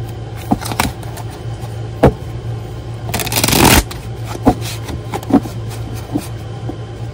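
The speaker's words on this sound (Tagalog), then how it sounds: "Balasahin lang muna po natin." A deck of oracle cards shuffled by hand nearby, with scattered single card snaps and then one dense riffling burst lasting about half a second, in a quiet room with no talking.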